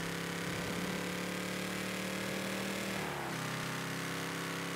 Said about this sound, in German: Hat sich der Ton verändert von dem Fahrzeug?